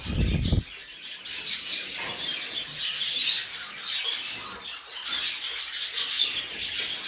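Eight young pet bird chicks, newly weaned onto seed, chirp and tweet continuously in their cage, a dense, steady chatter of many small high calls after a brief low thump at the start.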